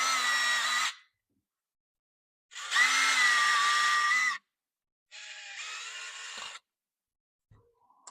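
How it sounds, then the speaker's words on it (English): A power drill bores holes in a kydex sheath: three whining bursts of about one to two seconds each, separated by silence, close and steady in pitch, followed by a faint clatter at the end. "We'll drill the bottom one right here."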